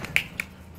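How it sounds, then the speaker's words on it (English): Two quick, sharp hand claps, the second softer, land about a quarter second apart during a gymnastics contest. The room is otherwise quiet with faint background hum. "Now, do the clap."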